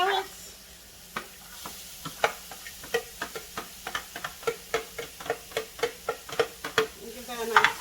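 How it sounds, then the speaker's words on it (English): Carrots being stirred into a black bean burger mixture: a steady run of scraping, clicking strokes, evenly paced and growing slightly louder, with a soft background hiss and no talk. "give that a nice stir"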